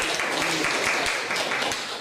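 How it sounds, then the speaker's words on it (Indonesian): Teachers and guests at a school gathering burst into applause, a loud, close, dense clatter of clapping hands filling the whole short stretch without pause. "Tepuk tangan buat kita."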